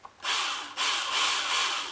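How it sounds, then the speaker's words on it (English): A variable-speed electric drill bores into a guitar headstock in two bursts, whirring high and close with a brief pause between them. "A drill that's got this kind of speed control gear is always better than"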